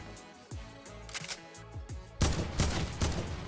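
Gunfire in the Fortnite video game: a few sharp shots up close, then a louder burst of three or four rapid blasts near the end, with no talking.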